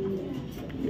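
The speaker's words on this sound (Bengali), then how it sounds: "কি চটপটা কবুতর দেখেন, কি চটপটা কবুতর" Racing pigeon giving a brief low coo up close, under a second long, soft and steady with no voices.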